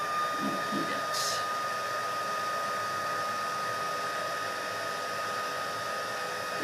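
A heat tool melts embossing powder on a card, giving a steady, close blowing hiss that holds evenly throughout with no talk.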